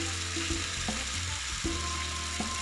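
Chicken kalmi kebab pieces fry gently in a pan over a low flame, giving a steady soft sizzle with faint clicks and shifts throughout, alone with no voices.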